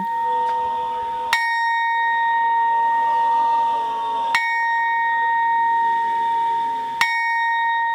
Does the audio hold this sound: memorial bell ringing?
yes